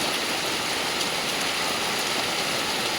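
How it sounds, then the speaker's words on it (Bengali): Heavy torrential downpour falling steadily across open ground, a dense, constant hiss of rain with no breaks and no voices. "প্রচুর মুসলধারা বৃষ্টি আছে দেখুন"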